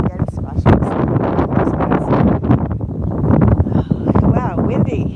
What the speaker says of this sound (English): Wow, windy.